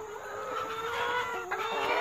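Backyard chickens outdoors cluck and chatter continuously at close range, with overlapping calls and no talking.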